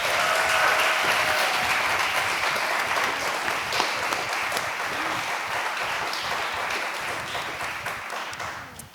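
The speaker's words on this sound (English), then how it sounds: "Could we give one last round of applause for tonight's candidates?" An audience at a school board candidate forum breaks into steady, dense applause that holds at an even level for several seconds, then begins to fade at the end.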